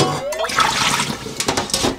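Boiled dried bracken fern is rinsed in water, with loud close splashing and sloshing and a pouring rush that swells and dips over a couple of seconds.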